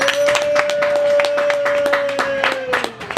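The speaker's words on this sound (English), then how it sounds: "Yeah, clap for me." Scattered clapping from a small open mic comedy audience, distinct sharp claps in an uneven rhythm, with a sustained tonal hum running beneath the whole stretch.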